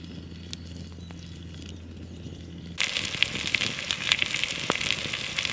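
A leg of lamb hits hot vegetable oil in a cast iron Dutch oven over a campfire, setting off a sudden loud, steady crackling sizzle after a quieter stretch.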